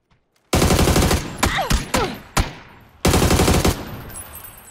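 Bots firing in the PUBG video game: two loud, close bursts of rapid automatic fire, with a few single sharp shots cracking in the gap between them.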